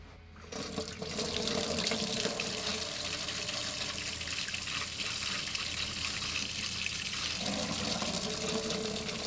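Hot water gushes steadily from a tap into a sink after a repaired immersion heater, beginning with a soft trickle and then running strong and close for most of the stretch.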